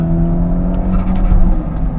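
A Toyota MR2 engine drones loudly and steadily at fairly constant revs while the car laps a race track, heard up close without talk.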